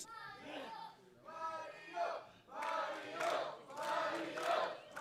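An arena crowd in a pro wrestling video game cheers and chants in rising and falling waves, loud and continuous, with a voice heard faintly among the crowd noise.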